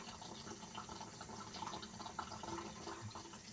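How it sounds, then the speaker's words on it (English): Water squirts and splashes steadily as a baby bottle nipple is rinsed with sudsy water at a sink, a continuous close, moderately loud running and spraying hiss with small splashes throughout. "I'm pretty much just shooting water through the nipple"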